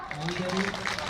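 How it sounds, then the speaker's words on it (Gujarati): An audience at a Shiva temple consecration festival claps in a steady, dense wash of applause, with a voice speaking over the crowd throughout. "એની તાળી તો પાડો."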